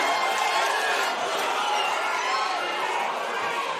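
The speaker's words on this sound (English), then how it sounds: "Crowd so loud here at Perth Metro City in their support of their fighter, Michael Bazley" Boxing crowd at Perth Metro City cheering for local fighter Michael Bazley, a dense, loud, continuous roar of many voices with no pauses.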